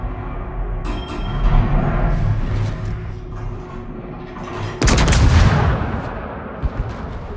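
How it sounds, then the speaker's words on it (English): Anti-aircraft guns on a warship in World of Warships fire in a dense, continuous barrage of booming bursts, with a louder swell of heavy gunfire near the end. "Anti-aircraft fire support."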